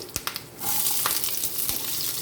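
Sliced onions tipped into hot oil with a few sharp clinks, then a steady, close hiss of frying that continues without voices.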